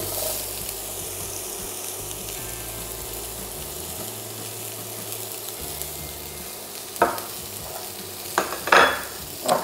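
Onion frying in a little oil in a pan makes a continuous soft sizzle under a low hum, with a few sharper scrapes and clatters near the end.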